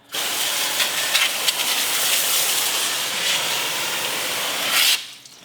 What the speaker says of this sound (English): my hose and just rinsing this down